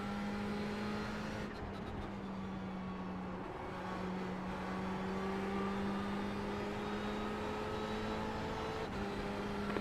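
Ferrari 488 GTE race car at Spa in a racing video game, its engine droning steadily at high revs through the whole stretch, with slight pitch shifts as it holds speed and a brief gear-change dip near the start.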